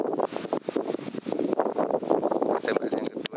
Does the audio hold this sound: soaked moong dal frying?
no